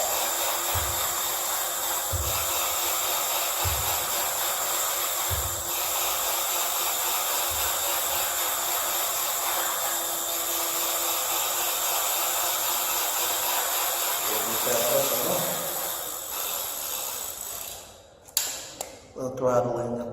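A drill-battery-powered electric motor spins a lifted wheel with a steady whine and hiss, ending in clattering bumps as it stops.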